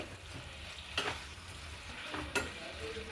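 A spoon stirs a drumstick and tomato mixture in a pan for an egg and drumstick avial. Two distinct scraping strokes sound over a soft, quiet, continuous sizzle, close by with no talking.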